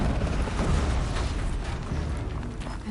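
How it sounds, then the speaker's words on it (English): Explosion in the video game Horizon Zero Dawn, a loud, dense broadband rumble with heavy low end that holds steady for about three seconds before easing off slightly. "An explosion."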